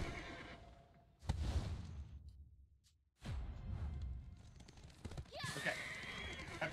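A horse neighs loudly in an online video game node war, a long whinny standing out alone before battle noise and voices resume.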